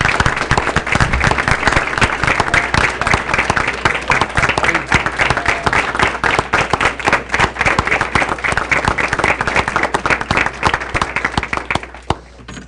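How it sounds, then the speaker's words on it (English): Audience applause for the seven school board members at a board of education meeting, a steady rattle of many hands clapping continuously for about twelve seconds, fairly close and loud, trailing off at the very end. "give our awesome 7 members of our school board a big round of applause"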